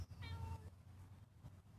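A young female cat in a park in Peru with her head tilted to one side gives one short, close meow near the start, followed by quiet background rumble.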